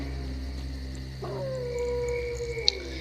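A dog howls in the video game S.T.A.L.K.E.R. Call of Pripyat, one long wavering howl that rises and then holds a sliding tone. It sits a short way off over a steady low ambient hum.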